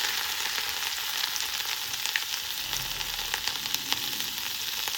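Turmeric, asafoetida and grated ginger frying in oil over a low flame, giving a continuous soft, crackly sizzle with small pops scattered throughout, fairly quiet and unbroken by talk.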